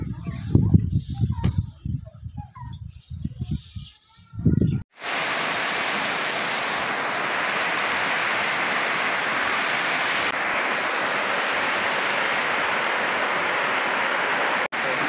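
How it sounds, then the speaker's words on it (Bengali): Heavy monsoon rain in the month of Asadh pours down steadily and loudly after a few seconds of people talking, a dense continuous hiss that lasts to the end. "প্রচুর বৃষ্টি হইতেছে।"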